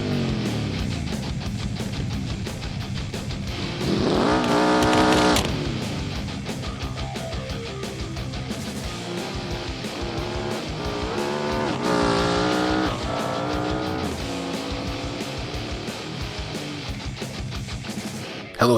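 Autobella Piccolina, a small car in BeamNG racing on a drag strip, its engine revving loudly and continuously with repeated rising gear pulls and tire squeal throughout, no talking.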